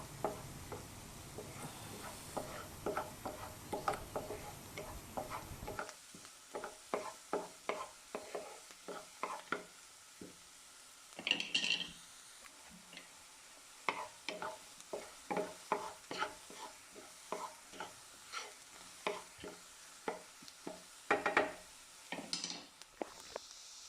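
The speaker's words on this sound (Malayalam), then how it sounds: "അപ്പോൾ ഇത് നന്നായിട്ട് ഈ ഉള്ളിയൊക്കെ ഒന്ന് വഴറ്റിയിട്ടെടുക്കുക." Onions sautéed in a pan for a simple sandwich, with a faint hiss at first, then quiet, rhythmic spoon scrapes and clicks against the pan continuing steadily.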